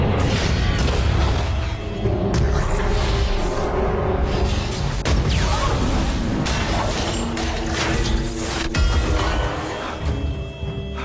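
Explosion in a tense rescue scene, a continuous loud roaring blast with rumbling low end and crashing debris sustained throughout, dense and close with no voices.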